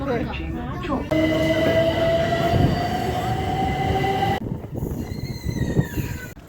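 A train runs steadily on a UK line toward the Southend-on-Sea seaside in Essex, with a rumbling roar, a long sustained wheel whine, and squealing near the end as it slows, while voices talk over it.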